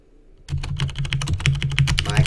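Fast typing on a computer keyboard picked up by its own close microphone, a dense run of crisp keystrokes that starts abruptly and carries on loud and steady.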